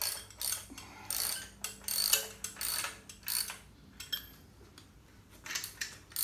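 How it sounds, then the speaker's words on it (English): A ratchet tightens bolts on a 78 x 90.5 short block engine during assembly: close, crisp bursts of rapid ticking clicks that start and stop several times with brief pauses between strokes. "tighten these down a little bit with the normal ratchet"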